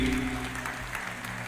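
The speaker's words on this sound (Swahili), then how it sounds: "Wapigieni makofi," An indoor church audience claps together in a brief, dense burst of applause at a Christmas service, fairly distant and steady, with a faint voice underneath at the start.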